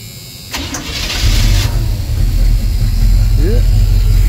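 A car engine with a choke and custom-built spark plug wires cranks briefly, then catches and settles into a loud, close, steady running rumble.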